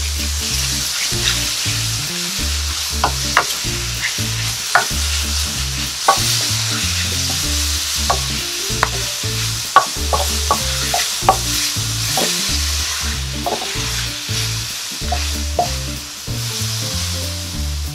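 Beef stir fry sizzling steadily in a hot pan with salt, black pepper and green seasoning, while a utensil scrapes and clatters against the pan in quick repeated strokes, close and continuous without talk.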